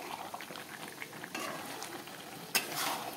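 Meat sautéing in a covered pan for a chicken curry, a steady bubbling sizzle with soft stirring clatter, growing louder near the end as the pan is worked.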